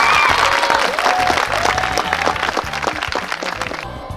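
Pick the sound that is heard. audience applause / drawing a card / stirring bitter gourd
audience applause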